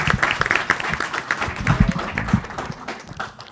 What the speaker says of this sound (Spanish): Muchas gracias, maestro Enrique Ibarra, para quien pido un caluroso aplauso.